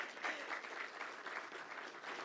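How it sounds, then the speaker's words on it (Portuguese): Soft, distant audience applause at the close of a Brazilian industry conference, an even, continuous patter of many hands at low volume throughout. "podemos bater palmas?"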